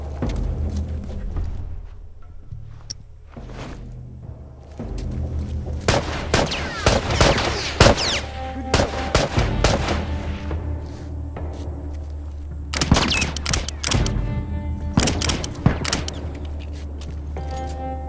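Gunfire in The Last of Us Remastered, loud bursts of repeated shots in clusters with sharp bangs and pauses between, over a low rumbling game background.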